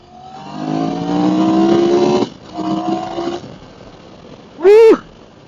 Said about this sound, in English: Now, listen to that engine note.